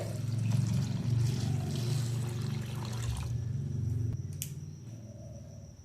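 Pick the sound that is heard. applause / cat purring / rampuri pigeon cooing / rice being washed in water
rice being washed in water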